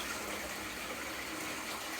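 Crushed brake rotor ore pours into water from a homemade impact-drill crusher, giving a faint, steady splashing and trickling wash with no talking.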